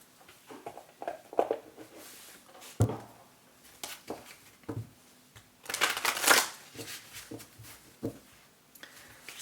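Oracle cards are shuffled in soft, scattered riffles and taps, building to a brisk, louder burst of shuffling midway before settling into occasional light handling sounds.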